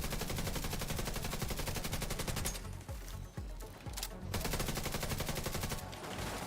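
Automatic weapon fire rattles almost continuously in The Division 2 shooter, with dense, loud bursts that briefly thin out midway before the shooting resumes at full intensity.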